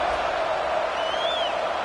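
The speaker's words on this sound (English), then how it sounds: "this crowd is buzzing after that last score" A football stadium crowd at a Miami vs Oregon game buzzes after a score, a brief steady wash of distant cheering and murmur with a faint whoop.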